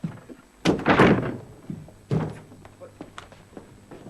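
Locked door being broken down on a 1970s British television mystery set, two heavy thuds about a second and a half apart, loud and close, amid shouting voices.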